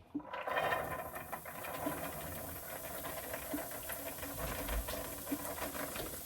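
Steady hissing sizzle of sweet potatoes frying in a hot pan, with crackling pops throughout, fairly close and continuous.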